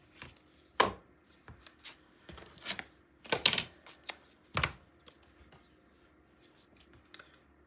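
Wide tape being pulled off its roll and pressed onto a paper mini album, heard as scattered quiet rips and crackles with pauses between, close and soft, with faint talk.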